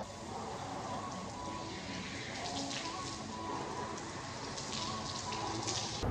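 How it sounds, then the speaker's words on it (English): A cold shower runs steadily after a sauna, water hissing and spattering in a continuous even spray from start to finish, fairly close. "Cold shower."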